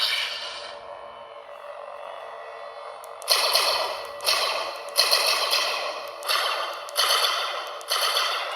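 A Proffie-board lightsaber on a rebuilt Starfall saber staff, running the Hero's Journey sound font. It is quiet at first, then a loud burst sets off a string of bright, sweeping whooshes that repeat roughly every second.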